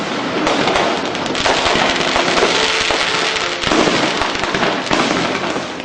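Diwali firecrackers burst in a dense, continuous barrage of crackling pops and bangs for several seconds, loud and without pause.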